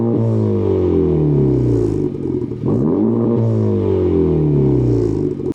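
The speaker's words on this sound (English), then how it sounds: "The AWE track exhaust sounds better, if not as good, as those other very high-end exhausts." A Honda Civic Type R fitted with an AWE track exhaust revs loudly and up close, its deep droning note rising and falling with one sharp dip and climb in the middle, no voices over it.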